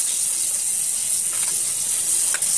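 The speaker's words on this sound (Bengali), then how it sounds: "বেগুনগুলো ভাজার জন্য দিয়ে দেবো।" Salted brinjal pieces with turmeric sizzle in hot oil in a wok over a stove, making a loud, continuous, even hiss with a few faint crackles near the end.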